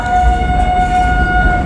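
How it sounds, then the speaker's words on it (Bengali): The Howrah–Puri Vande Bharat Express stands at Bhubaneswar with a loud, steady horn-like tone held throughout over a heavy low rumble of the train. "এখন বাজে 11:40, ভুবনেশ্বর পৌঁছালো ট্রেন, আর মাত্র দুটো স্টেশন।"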